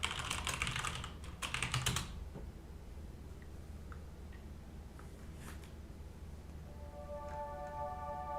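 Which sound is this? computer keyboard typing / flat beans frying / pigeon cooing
computer keyboard typing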